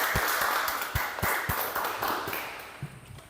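Applause for Helen at an Indonesian time-management seminar: a few seconds of loosely spread hand claps with scattered sharper slaps over a steady hiss, fading toward the end.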